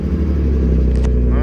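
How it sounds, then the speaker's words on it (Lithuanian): A drift car's engine holds a steady, deep idle right up close. The low rumble runs continuously and loudly, with a brief faint higher squeal near the end. "Tai dabar iš tikrųjų reikia užsivesti variklį"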